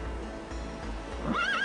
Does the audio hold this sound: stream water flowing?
no